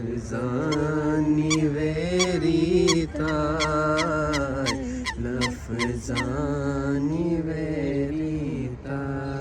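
Geese in Regent's Park, London, honk loudly and repeatedly at close range, a dense overlapping chorus of nasal calls that continues without pause and with no talking.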